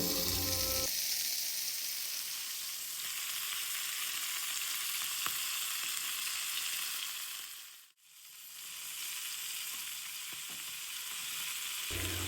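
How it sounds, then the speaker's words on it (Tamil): Sardines fry crisply in an oil-filled pan, producing a steady, bright hiss that runs throughout, dipping briefly near the middle before resuming. "இப்போ இந்த மத்தி மீனை நான் வந்து நல்லா ஃப்ரை பண்ணி எடுத்துக்க போகிறேன்."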